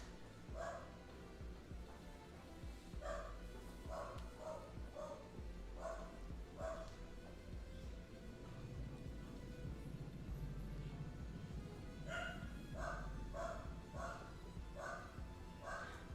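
A dog barks repeatedly indoors at kids passing by outside, sharp barks in irregular bursts at moderate distance, pausing midway and then returning in a rapid cluster, over a faint steady room hum.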